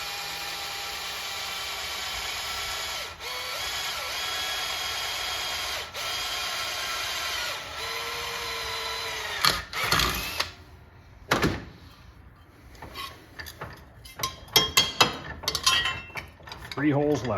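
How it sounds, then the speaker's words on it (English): A hand drill bores slowly through sheet metal on an arcade cabinet build, a steady grinding whir that runs for several seconds, then gives way to clattering metal knocks, taps and handling noises. "I'm drilling really slowly because I don't want it to catch and bend the metal"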